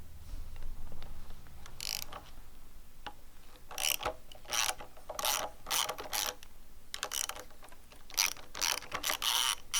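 Socket ratchet backing out 8mm bolts on the handlebar controls of a Honda Grom motorcycle, rapid bursts of close metallic clicking in short repeated strokes with brief pauses between, no talking.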